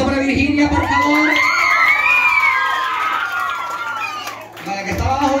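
Loud crowd of children cheering, whooping and shouting at a birthday party, a dense continuous roar with excited high voices rising and falling, and adult talk mixed in.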